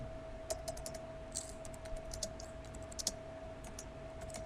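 Someone types text on a computer keyboard during a web front-end design lesson, producing quick irregular bursts of light key clicks over a faint steady hum, with no talking.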